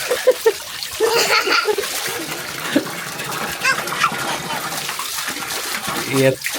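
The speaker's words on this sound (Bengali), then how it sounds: "আর কতক্ষণ গোসল করবেন" Water splashes and sloshes steadily through a child's bath, with voices talking and laughing over it.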